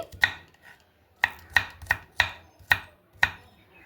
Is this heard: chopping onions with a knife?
yes